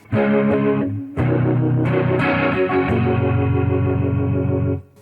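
Electric guitar through a Strymon Lex rotary pedal with its preamp drive, a driven, gritty tone, chords and notes ringing with a swirling modulation, a brief pause then continuing strumming loudly.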